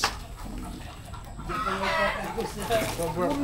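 Chickens cluck and fuss close by in a rural setting near a snake catch, a few short throaty clucks and squawks rising over a low background murmur.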